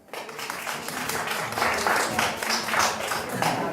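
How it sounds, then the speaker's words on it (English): Audience at an orphanage fundraiser applauds a speaker, with a burst of clapping that swells quickly and stays full and lively for a few seconds, with some voices mixed in. "Please give applause to Eddie."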